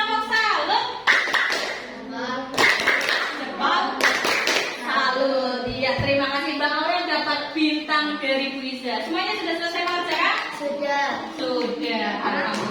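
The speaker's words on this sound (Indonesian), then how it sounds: "sekarang kita beri tepuk salut buat Mbak Aurel" A group performs a rhythmic 'tepuk salut' clapping cheer, sharp claps landing in bursts near the start, then mixed with voices chanting and talking together for the rest.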